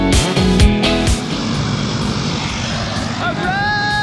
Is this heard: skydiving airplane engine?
yes